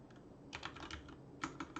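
Short bursts of clicking keystrokes on a computer keyboard, close and fairly quiet, in a few quick clusters with a louder key press at the end, no voices.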